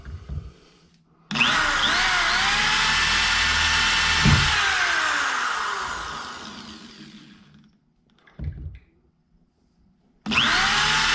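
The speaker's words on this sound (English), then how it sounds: "Let me get this last one drilled." A power drill bores holes to mount push pole holders, whining loudly and steadily for about six seconds before winding down, followed by a short burst and the start of another run.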